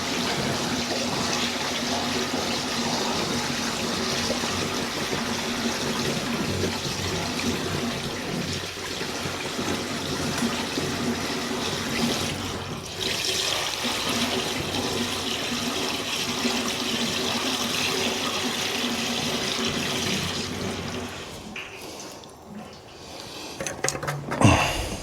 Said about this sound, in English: It's nice to have a place I can just dump my coolant and not have to worry about it.